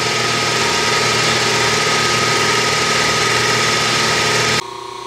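An end mill cuts a square keyseat on a Clausing milling machine with oil applied, producing a steady loud mechanical hum and whine that stops abruptly near the end, leaving a quieter residual drone.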